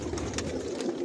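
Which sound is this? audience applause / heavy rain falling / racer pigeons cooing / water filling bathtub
racer pigeons cooing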